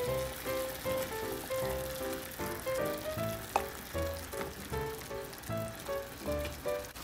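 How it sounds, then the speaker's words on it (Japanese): Soy-based sauce with akamutsu (rosy seabass) and plenty of ginger simmers in a pot, a soft steady bubbling sizzle, faint and partly under background music. "そしたら先ほど作ったタレをまず入れて、軽く煮立ちましたら先ほどの赤むつ"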